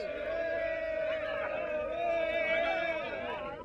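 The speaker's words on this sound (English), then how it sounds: "Outside Fort Usher prison, the crowd are waiting for the release of more of Nkrumah's political prisoners." A crowd gathered outside Fort Usher prison in Ghana waits for the release of political prisoners, heard as a murmur of many voices and a few raised calls, steady and moderately distant throughout.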